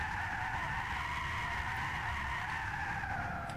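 Tesla Model S on hard comfort tires drifting in Gran Turismo 6, a continuous loud tire screech with steady tonal squeal held throughout, engine hum underneath.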